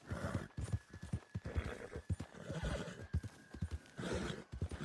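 A horse nearby makes repeated clip-clop hoof sounds mixed with whinnying and neighing, fairly quiet and continuous throughout.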